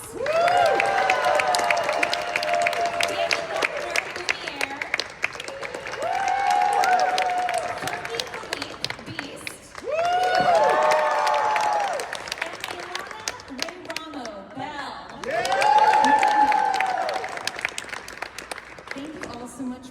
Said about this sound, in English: So please give a big round of applause to Kathy Voitko, Mrs. Potts.